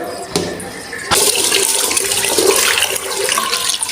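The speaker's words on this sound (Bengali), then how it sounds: "আমি এইখানে চালগুলো ভালো করে ধুয়ে নেব।" Rice is washed in water, with steady loud running and swishing water close by and a sharp clatter just before the flow grows fuller.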